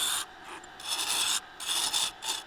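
A turning tool rests against a spinning blackwood twig pot on a wood lathe, giving short bursts of close, bright scraping and rasping that come and go in uneven pulses with quiet gaps between them.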